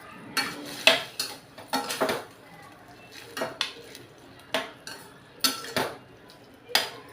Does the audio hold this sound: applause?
no